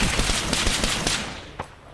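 MAC-10 submachine gun fire in Arma 3 close-quarters combat: a dense, loud stream of rapid shots that stops, then one last crack, near and with no talk over it.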